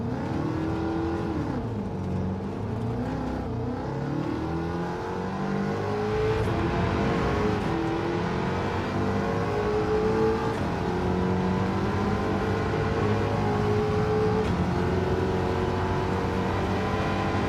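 Mach 40 race car engine in Gran Turismo 7, droning steadily with rising and falling pitch as it accelerates and shifts, loud and continuous throughout, with no voices.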